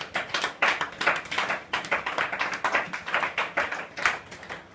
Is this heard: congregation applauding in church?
yes